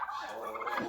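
Turkeys gobble together at morning feeding on a farmyard, a close, continuous warbling chorus.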